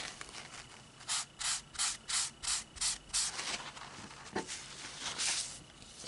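A Mr Clean Magic Eraser is rubbed over soiled white areas of a comic book page, making about a dozen quiet, rhythmic scrubbing strokes in quick back-and-forth succession, close by with no talking.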